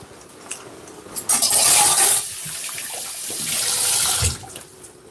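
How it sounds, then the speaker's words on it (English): Running tap water splashes into a kitchen sink as hands are rinsed, a close hissing stream that swells and fades twice over a few seconds, with no talking. "just gonna wash my hand off."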